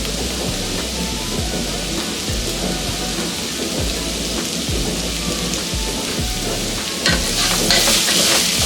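Beetroot fries in hot oil with a dense, rain-like sizzle, broken by repeated low knocks and scrapes of stirring in the pan.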